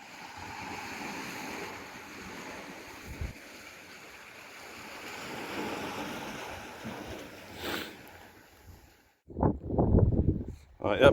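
Sea waves washing below a coastal cave path in Wales, a steady broad rush of surf with wind noise on the microphone, followed near the end by louder close rustling bursts.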